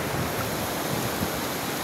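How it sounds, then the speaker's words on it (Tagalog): The Singupan river flows through mountain forest with a steady, close broadband rush of water, mixed with wind buffeting the microphone, and no voices. "Oh, ito yung ilog ng Singupan mga idol."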